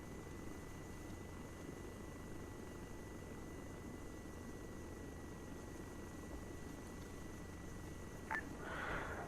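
Helicopter from a special operations aviation unit settling onto a helipad at a military airfield in a war video game, a faint, steady low rotor rumble that holds throughout, with no talking.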